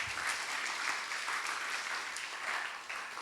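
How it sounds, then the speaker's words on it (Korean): Steady applause from a church congregation after a certificate is presented at a Sunday worship service, dense and even clapping filling the room, sustained throughout without pause. "자, 박수 부탁드립니다."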